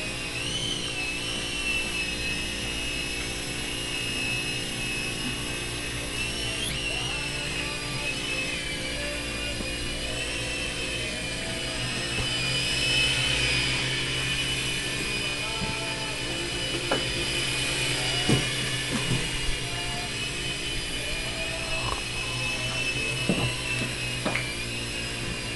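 A Blade mCX2 RC helicopter hovering indoors, giving a steady high-pitched whine of small motors and rotors that holds evenly throughout without talk.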